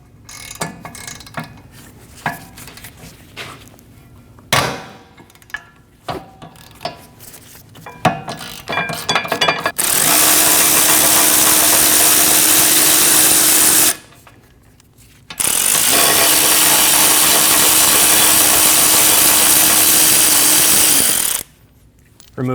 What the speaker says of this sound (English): Using a 14mm socket, remove the caliper bracket bolts.